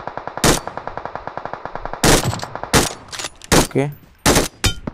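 Rapid gunfire in BGMI while sniping at a ghillie-suited enemy, a fast even rattle of automatic shots followed by several loud separate bursts, close and sharp, with a brief spoken word from a player.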